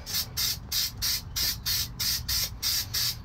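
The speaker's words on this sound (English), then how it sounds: "you see how I usually spray paint, usually 4 to 6 inches away" Spray paint hissing onto a rusty car floor in short, even bursts, about a dozen regular pulses close to the nozzle with brief pauses between.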